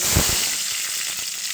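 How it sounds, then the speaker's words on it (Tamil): Onion and tomato frying together in a pan for a dried-fish curry: a close, steady hiss of sizzling oil, with a couple of soft thumps near the start as the vegetables are stirred. "வெங்காயம் தக்காளி ரெண்டும் போட்டணும்."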